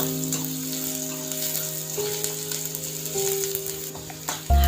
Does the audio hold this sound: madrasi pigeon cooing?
no